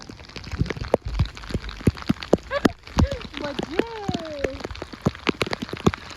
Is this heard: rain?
yes